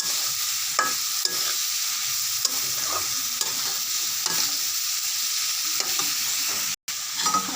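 Snake gourd pieces being stirred with spices in a frying pan, giving repeated scraping strokes over a continuous sizzle, close and clear with no talking.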